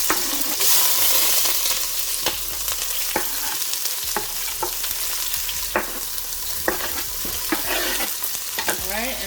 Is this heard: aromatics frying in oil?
yes